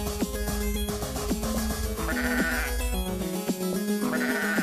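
Sheep bleat repeatedly in the voxel game Minetest, loud and close, several overlapping cries with a bright wavering tone, sounding over a continuous backdrop of game music or ambience.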